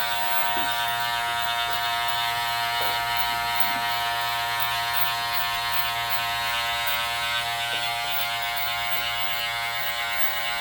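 Electric hair clippers buzz steadily and continuously, a close, even motorized hum with faint cutting texture throughout.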